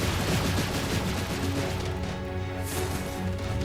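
Rapid gunfire in a mobile video game match, a dense, continuous barrage of shots with crashing noise that stays loud throughout.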